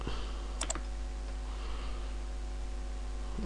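Two quick, crisp computer mouse clicks come close together near the start, followed by a low steady hum with no talking.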